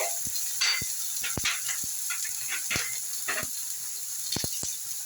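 Spice paste of ground raisins and cashews frying in mustard oil for a Bengali chitol fish kaliya, a steady bright sizzle with scattered sharp clicks of a spoon or ladle against the pan.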